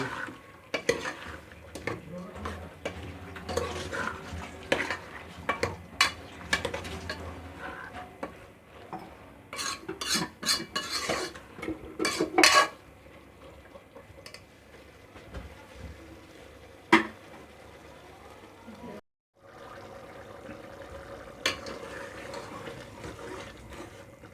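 Black chickpeas stirred and roasted in a metal pan, with a utensil repeatedly scraping and clinking against the pan over a soft sizzle, in irregular bursts close by and with no talking.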